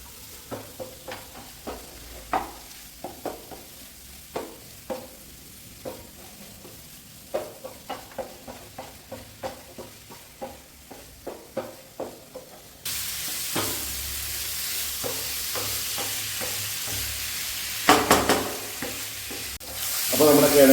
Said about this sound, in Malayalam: കിഴങ്ങും മസാലയും കൂടെ നന്നായിട്ടൊന്ന് മിക്സ് ചെയ്ത് കൊടുക്കുക.